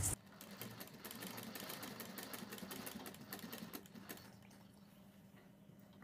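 A sewing machine stitches a kurti neck design, running in one steady, busy burst for about four seconds before dropping away to a quiet hum.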